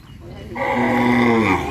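A cow on a farm gives one long, loud, close moo that starts after a brief quiet moment and holds steady to the end.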